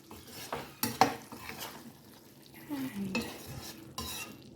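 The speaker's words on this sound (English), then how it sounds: "Mix lightly" Moong lentils and pointed gourd with ghee and garam masala being stirred in a pan, irregular scraping and clinks of a spoon against metal with a soft sizzle underneath, a few sharper knocks standing out.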